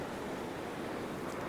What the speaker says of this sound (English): the wind is blowing its butt off